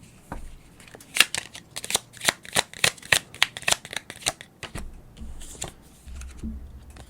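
Tarot cards riffled and shuffled by hand in a rapid run of crisp, close slaps and flutters, then a softer settling of the deck, with no talking.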